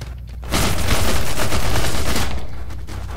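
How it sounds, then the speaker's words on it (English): Rapid auto pistol fire from the video game People Playground comes as a loud, dense burst of shots lasting about two seconds before it tails off. "One more person with this auto pistol."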